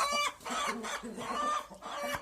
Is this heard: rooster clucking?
yes